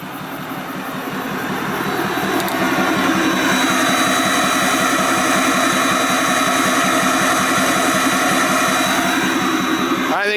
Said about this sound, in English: you got to hear this exhaust